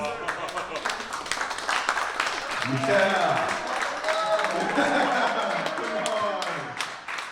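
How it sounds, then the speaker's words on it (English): An audience at a live talk show claps for Payne as he walks in. Scattered applause and chuckles run steadily under a voice, and the noise swells midway. "everybody clap for Payne as soon as he walks in"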